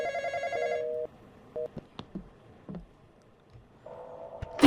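A telephone rings in the Roblox horror game Intruder, with an electronic trill repeating in short bursts at the start and returning near the end. Sparse clicks and soft game noises fill the quieter gap between the rings.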